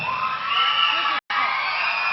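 An audience cheers and whoops at a Telugu community celebration, a dense, steady roar of many voices with one brief cut-out midway.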